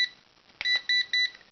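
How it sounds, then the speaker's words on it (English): A Helicute H818HW quadcopter transmitter gives three short, clear electronic beeps in quick succession, close and crisp in a quiet room. "3 beeps, and that's the top speed."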